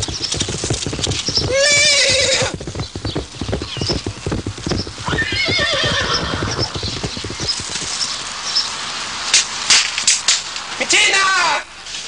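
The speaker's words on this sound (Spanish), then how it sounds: "¡Sé libre, caballo salvaje!" Galloping hooves clatter from a wild horse alongside several loud whinnying neighs in a dramatic TV scene, over a busy, dense mix of sound.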